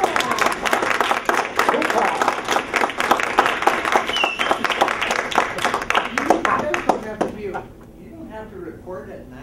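An audience claps loudly and continuously in dense, busy applause for about seven seconds, then fades to quieter scattered sound as a voice speaks near the end.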